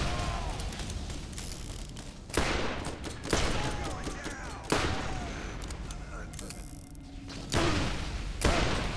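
Gunfire from the Borderlands video game: bursts of rapid shots with heavy thumps and explosive impacts, loud and close, broken by short pauses, with a player talking over the fighting.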